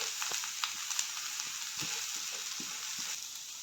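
Passion fruit leaves sizzle and fry in a pan with sautéed onions for a Kerala-style thoran, a steady broadband hiss throughout with small stirring clicks and scrapes.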